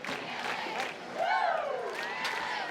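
Crowd at a high school homecoming football game cheering and whooping, a swelling mass of voices with a rising shout in the middle.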